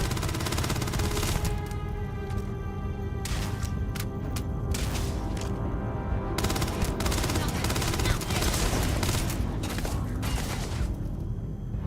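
Gunfire in the Starfield space game: a long run of rapid, loud automatic bursts with layered shots and impacts, nearly continuous across the whole stretch.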